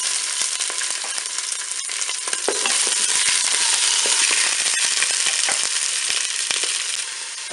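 Turkey roast and onions browning in a Cookeo cooker: a loud, continuous sizzle and crackle with scattered sharp pops and spatters, close by and without voices.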